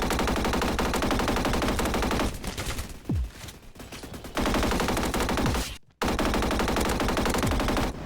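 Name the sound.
G36C gun firing in a video game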